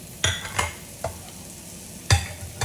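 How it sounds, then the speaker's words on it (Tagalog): Mushrooms sizzle in a pan after shrimp, for a stir fry of veggies, while a utensil scrapes and stirs them in several sharp, irregular strokes over a soft steady hiss. "Then, in the same pan, ilagay ang mushroom."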